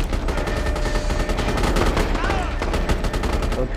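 Gunfire in the online shooter MAG, rapid automatic bursts and repeated shots cracking continuously through a battle, loud and close, with a distant tone sweep in the middle.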